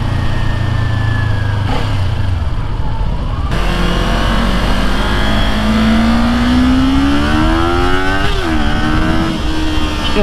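A small Kawasaki motorcycle engine revs and accelerates close by at a demo ride event, its pitch climbing steadily and loudly before dropping briefly and rising again, with no talking.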